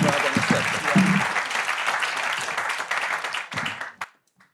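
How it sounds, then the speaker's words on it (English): Loud audience applause from a seated crowd at a church-style morning session, dense clapping with voices mixed in, tapering and cutting off near the end. "Let's have a round of applause for these guys."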